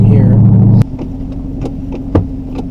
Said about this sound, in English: I'm going to switch to sport mode. And I'm going to go through the gears manually